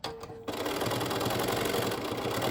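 A sewing machine stitches through the middle of a strip of rickrack trim, starting after a short pause and then running in a steady, close, rapid mechanical chatter to the end, no talking.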